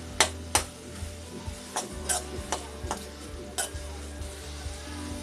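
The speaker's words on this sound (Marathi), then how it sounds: "फोडणीमध्ये गरम मसाला, मालवणी लाल मसाला, हळद परतून घेऊया" Ground spices, garam masala, Malvani red masala and turmeric, sauté in hot oil for a prawn curry, giving a low sizzle under a spoon stirring. Sharp metallic taps against the pan come every second or so.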